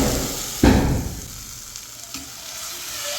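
Mutton blood being poured into a hot pan over fennel-spiced masala in a Tamil kitchen. It lands with a sudden loud sizzle that fades into a steady, softer frying hiss, with a brief stir clatter partway through.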